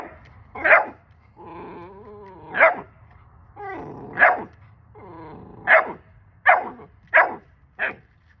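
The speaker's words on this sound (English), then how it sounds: "I'm not gonna feed it when it's barking at me." A puppy in training barks repeatedly and close by, mixing sharp yips with whining, growly vocalizations between the barks and ending in a quick string of several barks.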